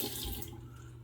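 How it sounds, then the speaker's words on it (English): A small splash of water runs briefly from a tap while topping up dry shaving lather, a soft, close trickle lasting well under a second before fading to quiet. "I'm gonna add a little water. It's a little dry."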